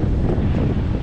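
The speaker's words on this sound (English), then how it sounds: "It's getting pretty windy." Strong wind buffets the microphone on a fishing pier by a large South Florida bridge at night, a steady loud roar with surf washing underneath, no voices.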